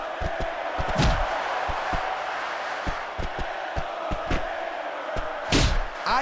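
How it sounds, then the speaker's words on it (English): Arena crowd noise from the WWE SmackDown! vs. Raw 2006 video game during a Kane vs. Undertaker Buried Alive match, a steady roar with repeated thuds and slams and a loud burst near the end. "I can't remember the last time I seen a crowd so pumped up"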